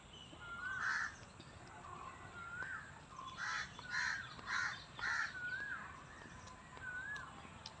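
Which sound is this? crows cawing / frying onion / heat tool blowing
crows cawing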